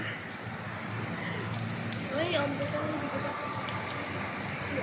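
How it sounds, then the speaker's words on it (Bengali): Steady heavy rainstorm in Abu Dhabi hisses continuously, with a faint voice-like tone of a call to prayer rising briefly in the middle of the downpour. "দেখেন কিভাবে শুরু হয়েছে তুফান বৃষ্টি"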